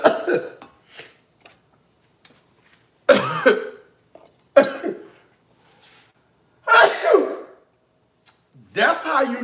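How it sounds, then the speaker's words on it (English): Coughing and sneezing set off by Cajun seasoning in a home snack kitchen, five or six sharp, close bursts separated by short silences. "If you ain't coughing, if you ain't sneezing, you ain't doing it right."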